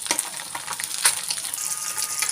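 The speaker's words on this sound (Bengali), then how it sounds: "এরপর আমি তুলে নেবো, নিয়ে বাকি মাছগুলো ভেজে নেবো।" Fresh pond bata fish fry in hot oil with a dense, steady sizzle and crackle from start to finish.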